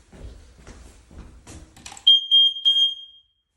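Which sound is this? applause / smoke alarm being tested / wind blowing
smoke alarm being tested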